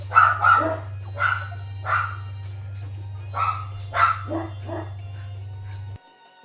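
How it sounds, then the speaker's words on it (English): Dogs bark in the video game Radiant Historia: Perfect Chronology, seven or eight sharp, yipping barks in irregular bursts over a steady low hum that cuts off abruptly near the end. "Dogs."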